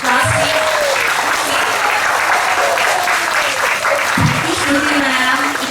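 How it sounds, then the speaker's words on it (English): A school assembly breaks into sustained, loud clapping for class 2C, with children's and adults' voices rising over the applause. "A big round of applause for class C."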